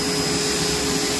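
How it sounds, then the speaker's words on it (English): Bissell Bark Bath vacuum sucking up husky hair during a dog bath, a steady loud whooshing suction roar with a constant tonal hum, no pauses throughout. "Some of the hair does get sucked into the vacuum part."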